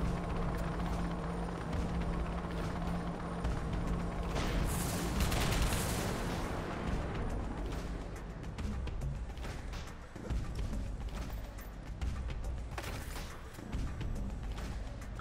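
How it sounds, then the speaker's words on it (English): A military helicopter in the video game Rogue Trooper Redux fires on the player, a loud continuous rotor drone mixed with bursts of gunfire and heavy booms throughout. "when you've got this chopper firing at you"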